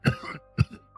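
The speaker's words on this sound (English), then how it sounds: "Bayard coughs, splattering blood on her face." Two short, rough bursts from a throat, a cough or throat-clear, the first followed by a brief rasp, the second sharp and isolated, close by.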